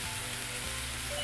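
Zucchini and clams stir-frying in a pan over medium heat, a soft, steady sizzle that stays fairly quiet and even across the short span, with no voices.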